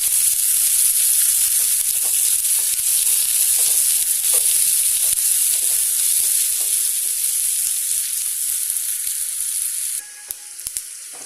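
Thinly sliced onions and dried curry leaves sizzle steadily in hot oil, a dense continuous frying hiss with light stirring clicks, close and loud, easing off near the end.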